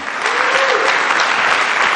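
A church congregation breaks into sustained applause, a dense wash of clapping filling the whole two seconds at steady loudness, with faint voices mixed in.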